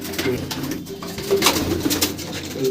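Tournament racing pigeons, including a local Matras, coo nearby in low, rolling murmurs, several birds overlapping against a busy background of rustling and faint voices.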